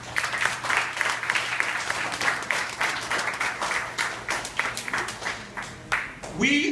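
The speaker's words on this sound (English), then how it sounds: "Give yourself a round of applause." An audience claps together at a primary school graduation ceremony, a steady spread of applause lasting several seconds, with a voice speaking underneath.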